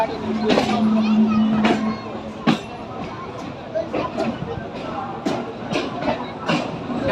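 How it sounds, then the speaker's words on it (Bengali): Train rumbling and clattering along the rails as it pulls into platform one at Howrah station, Kolkata, with repeated sharp clanks and a brief tone, people talking over the steady mechanical noise. "দেখো ট্রেনটা এক নম্বর হাওড়া স্টেশনে এক নম্বর প্ল্যাটফর্মে ঢুকছে"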